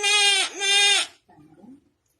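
Goat character in a told children's story: two loud, close bleats in a row, then a short pause and faint quieter sounds.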